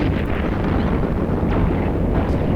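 Ship guns firing at enemy targets during combat in the space game EVE Online produce a dense, rumbling barrage of booming blasts that roll on without a break. No one speaks.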